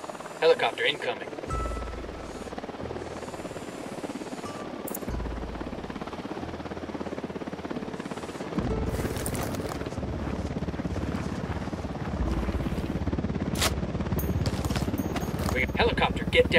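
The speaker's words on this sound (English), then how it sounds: "Helicopter incoming." Helicopter approaching in Ghost Recon Wildlands, a low rotor drone building steadily under game gunfire, footsteps and radio chatter, with voices talking throughout.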